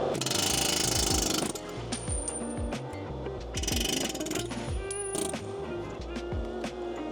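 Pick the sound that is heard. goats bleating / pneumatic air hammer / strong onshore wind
pneumatic air hammer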